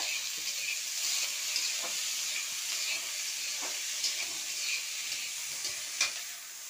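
Potato pieces fry in hot oil in a pan, a soft, even sizzle with scattered small pops and crackles, heard alone at a modest level.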